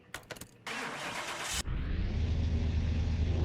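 A pickup truck's engine cranks with a few sputtering starter clicks, then catches and settles into a steady, smooth, low idle rumble, close and loud with no talking.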